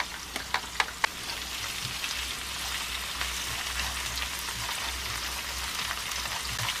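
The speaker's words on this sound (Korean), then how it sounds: "이제 날치알을 넣을 거예요. 센 불로 하고 싶은데 너무 튈 거라" Flying fish roe fries gently over low heat in a pan, part of a tofu noodle pasta. A steady, soft sizzle runs throughout, with a few sharp pops near the start and no talking.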